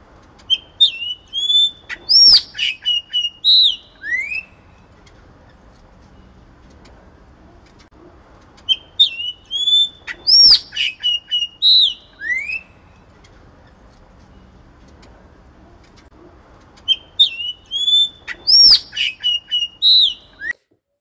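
A Sayaca tanager (Thraupis sayaca) delivers three separate bursts of rapid, varied whistled phrases in its wild song, with quiet pauses in between, clear and close in an otherwise still setting.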